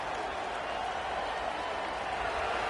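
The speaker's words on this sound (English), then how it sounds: "This crowd bringing the energy and noise early." Stadium crowd in a college football video game, a steady wash of cheering and roaring noise at moderate level with no clear breaks, heard alone without commentary over it.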